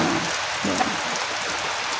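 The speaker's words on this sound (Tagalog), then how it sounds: "Kaso umuulan pa. Ito umuulan." Steady rain falls throughout, a dense even hiss of drops on a surface with no voices.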